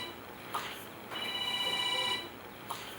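A telephone rings with a steady electronic tone lasting about a second, fairly faint, between quieter room sounds with brief clicks before and after.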